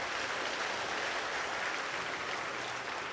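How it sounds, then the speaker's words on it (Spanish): Congregation clapping during a Spanish-language church service, a continuous wash of applause that stays even and moderately loud throughout the short stretch. "le damos un fuerte aplauso a la palabra de Dios"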